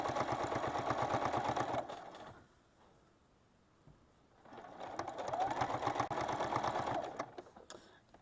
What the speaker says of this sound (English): Start stitching off of the edge of the quilt and travel down with that 1/4 inch seam all the way to your next corner